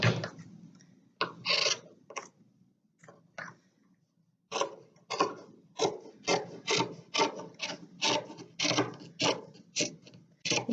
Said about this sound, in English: We are going to cut the hem off